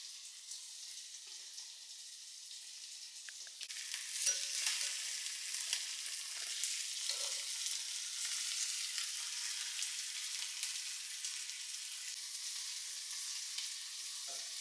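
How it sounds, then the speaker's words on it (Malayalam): Dried shark frying in a pan gives a steady, close, crackling sizzle that swells louder partway through and continues on alone with no voices. "ഉണക്ക സ്രാവ് വറക്കുകയാണ്"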